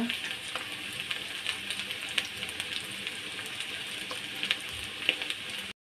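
Chicken and potatoes sautéing in oil for a spiced chicken curry make a soft, continuous crackling sizzle with scattered light pops, fairly quiet and close.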